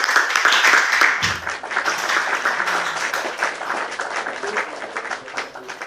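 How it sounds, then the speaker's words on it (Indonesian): A church youth congregation applauds, a dense, steady wave of clapping from many hands that continues for several seconds, with some voices mixed in. "Kita beri tepuk tangan dulu buat Tuhan."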